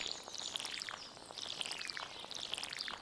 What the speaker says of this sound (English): let's water these suckers